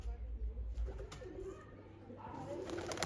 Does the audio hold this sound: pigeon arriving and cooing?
yes